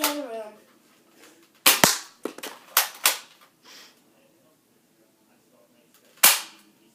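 Several sharp pops from a Nerf blaster fire indoors: one at the start, a quick cluster of four or five, then a single shot near the end, separated by quiet gaps.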